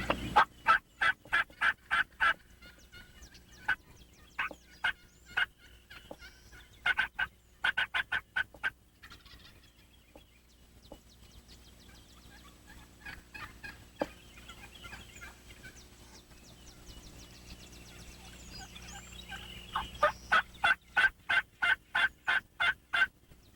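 Large flock of wild turkeys gobbling outdoors, repeated bursts of rapid rattling gobbles from several birds, some near and loud, others softer and farther off, over a quiet background with no speech.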